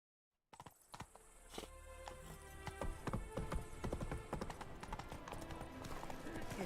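Roach, the horse in The Witcher 3, clip-clops along at a trot in crisp repeated hoof beats that grow louder, while a faint voice speaks beneath and a neigh rises partway through.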